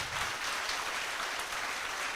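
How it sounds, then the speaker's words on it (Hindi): Audience at a business seminar claps together in a steady, dense wash of applause, fairly faint and distant, continuing evenly throughout. "एक बार जोरदार ताली बजाएं"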